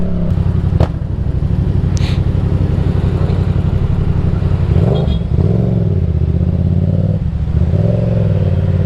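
A motorcycle in traffic idles and revs with a loud, close, throbbing engine, its exhaust letting out a few sharp pops and cracks scattered across the run.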